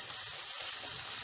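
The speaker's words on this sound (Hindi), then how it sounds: "ये पानी डल गया।" Water from a glass is poured into a pot of daal during home cooking, a steady hissing, splashing pour that holds on without a break and plays alone.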